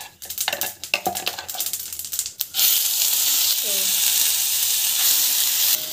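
Mustard seeds, cumin and split lentils go into hot oil: a couple of seconds of clattering pan and utensil knocks give way to a loud, steady sizzle that continues to the end.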